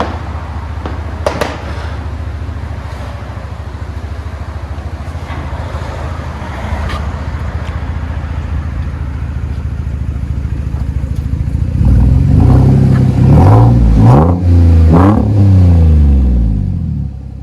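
Chevy Silverado pickup with a 4.3 V6 and a Kooks straight-through exhaust, idling with a steady low rumble, then revved hard in several sharp, loud blips toward the end.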